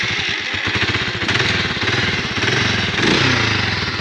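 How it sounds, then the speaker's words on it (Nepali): A 150–200 cc motorcycle engine runs close and loud through its exhaust, a steady, rapidly pulsing idle that throbs on without pause. "स्टार गरेर एक्जस्टको साउन्ड नै सुन्दिन।"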